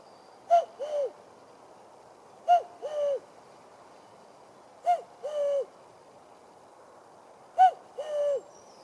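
A voice imitates a cuckoo, a two-note hooted call repeated four times at steady intervals, close and clear against a quiet background.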